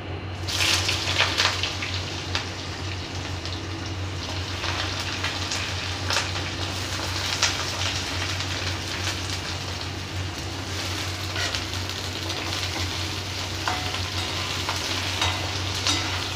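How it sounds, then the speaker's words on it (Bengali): Cut eggplant pieces fry in hot oil in a pan, a continuous crackling sizzle with occasional scraping clicks from stirring, steady and close throughout. "দিয়ে দেবো কেটে রাখা বেগুনগুলিকে।"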